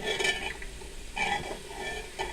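Boiled chickpeas and whole spices fry in a pot for achari chana pulao, a soft sizzle under repeated stirring scrapes and light clinks of a spoon against metal, close and quiet.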